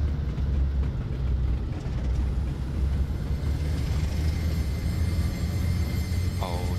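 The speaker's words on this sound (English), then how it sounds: "Oh, do I hear another train?" Diesel train in Train Simulator 2019 approaching on the line, a steady low rumble of engine and rails that holds level throughout, with a faint rising whine near the end.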